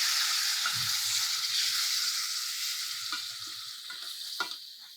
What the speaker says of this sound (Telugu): అది ఈ పోపులో పోసేసాం